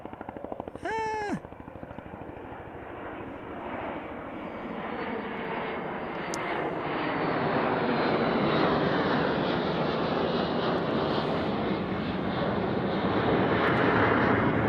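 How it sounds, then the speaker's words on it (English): A deep, rumbling jet engine roar from F-16 fighter jets builds and lingers overhead, broad and continuous, after a brief crow-like caw near the start. "I got 3 F-16s above me peeling off."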